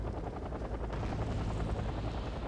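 AH-1 Super Cobra attack helicopters in the Wargame: Airland Battle video game thump along with fast, steady rotor beats over a heavy engine rumble, loud and continuous.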